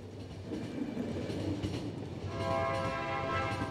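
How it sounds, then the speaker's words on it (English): A train in the game Final Station rumbles and clanks as it comes to a stop, with a steady low roar and a sustained horn-like tone rising near the end. "That's how we stop our train."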